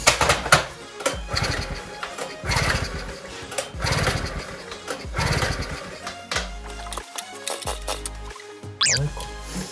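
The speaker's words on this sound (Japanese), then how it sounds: "キャブクリーナー直接キャブのところに入れてかけてみようと思います。" A small generator engine cranks repeatedly with carburetor cleaner sprayed into the carburetor, giving rhythmic bursts of whirring pull-start cranking that sputter without catching.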